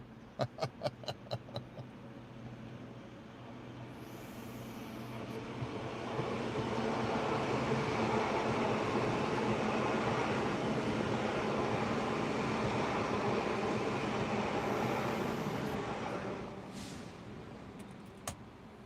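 A passing train rumbles along the rails, building from a distance into a loud, steady roar for several seconds before fading away, with a few sharp clacks at the start.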